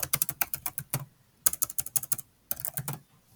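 Rapid keystrokes on a computer keyboard come in three quick bursts separated by short pauses, close and crisp, with no voices.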